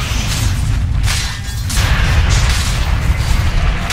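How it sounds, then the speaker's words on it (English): Tower destroyed in the video game Dota 2: a dense, loud rumbling crash with booming low rumble and whooshing debris that carries on steadily for several seconds. "Dire's middle tower has fallen."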